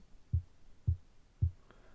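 Low kick drum built in Ableton Simpler from a short orchestral sample with short attack and decay, hitting three times at a steady pace, dull and thuddy, alone.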